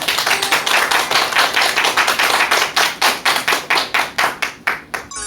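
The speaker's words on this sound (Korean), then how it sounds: "큰 박수 부탁드립니다" A lecture audience gives a round of applause for the first speaker at a persuasion talk, beginning as a rapid, fairly loud patter and slowing into fewer, evenly spaced claps toward the end.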